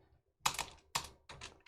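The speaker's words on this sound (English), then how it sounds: "you want to type in MYCROFT -start, and you're gonna hit space" Typing a command on a computer keyboard, a few separate sharp key presses in short bursts, close and clear with short silences between them.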